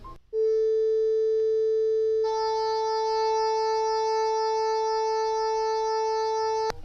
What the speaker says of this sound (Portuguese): Agora vocês vão ouvir o Lá 440 mais o Lá 882, que é o Lá oitava acima um pouquinho mais alto do que o normal.